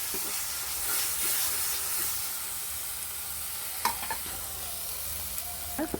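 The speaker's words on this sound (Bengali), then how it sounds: "দিচ্ছি হলুদ গুঁড়োটা দিয়ে একটু নেড়ে ফেলে আমি দেবো জল ঢেলে" Fish curry masala with turmeric sizzling in hot oil while being stirred: a steady soft hiss with occasional scrapes and clinks of the spoon against the pan, fairly quiet.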